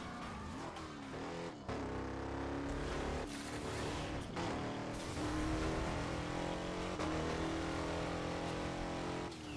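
A Chevy Camaro engine in the racing game Burnout Paradise, revving hard and climbing through gears with sharp shifts, loud and close, with tire noise and a steady racing roar.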